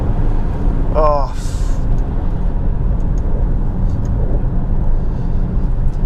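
An Alfa Romeo Stelvio Quadrifoglio engine drones loudly and steadily from inside the cabin, with a brief rising rev and a quick gear shift early on, while a person talks over it.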